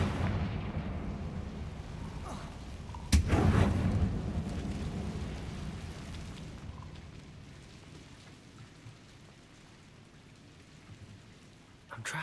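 In Hogwarts Legacy, a Confringo spell bursts with a sudden loud blast about three seconds in, followed by a rumbling decay over rain-like crackle, then fading to a quieter hiss and a sharp thump at the very end.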